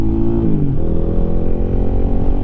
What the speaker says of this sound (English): and kind of warm the bike up.